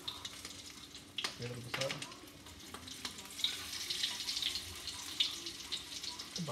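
Kebab frying in a pan in a home kitchen, a steady sizzle with stirring and scraping clatter, brief running-tap water early on, and a short spoken remark over it.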